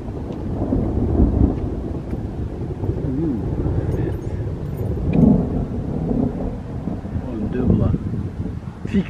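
Loud thunder rolls and rumbles through a storm, with rain and gusts of wind buffeting the microphone, while people talk over it.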